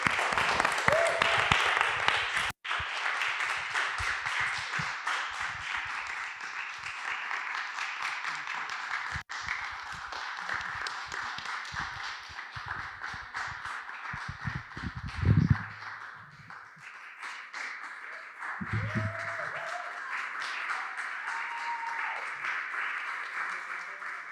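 Sustained applause and clapping from a live audience at a startup demo day in Paris, steady and full for over twenty seconds, with brief voices and a couple of footsteps or thumps near the end.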